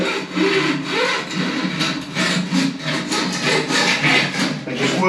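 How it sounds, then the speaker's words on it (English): A tool is worked back and forth like a saw to cut the silicone sealant behind a shower screen during a bathroom remodel, producing close, continuous rhythmic rasping strokes with no talking. "if I just work that like a saw, and then hopefully it will cut the silicone behind it"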